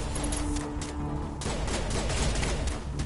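Gunfire in the video game Mass Effect, a dense fusillade of rapid shots and bursts crackling steadily through the whole stretch at loud, even level, with no speech over it.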